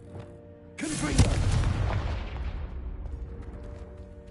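A Confringo spell explosion in the Hogwarts Legacy video game, a single loud, close blast that bursts out suddenly and then rumbles and fades slowly over a few seconds.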